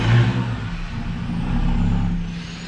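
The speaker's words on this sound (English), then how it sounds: "truck going by here." A truck rumbles past close by, its engine loud at first and then fading, with a short hiss near the start that fits an air brake release.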